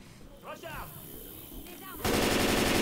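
In the video game Left 4 Dead, a rifle opens up in a loud, rapid burst of shots that cuts in sharply after a stretch of quiet talking.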